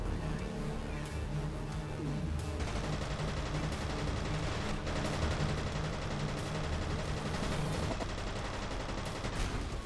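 A gunfight against replica soldiers in the video game F.E.A.R. plays out as dense, continuous rapid gunfire and bursts of shots in a clattering barrage, steady and moderately loud throughout.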